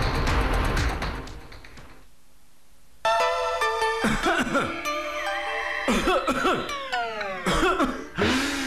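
Harsh coughing fills the opening seconds, followed by a brief silence and then bright music with a rising tone.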